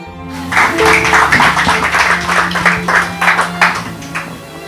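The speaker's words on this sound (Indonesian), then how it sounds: "Tepuk tangan dong." A church audience claps their hands together, a loud, close, steady burst of applause lasting several seconds.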